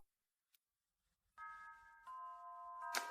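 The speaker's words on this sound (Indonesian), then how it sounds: "bel sekolah udah bunyi" A school bell rings in a classroom setting, a faint, sustained electronic chime of several layered tones that starts after a quiet pause, shifts pitch midway and continues to the end.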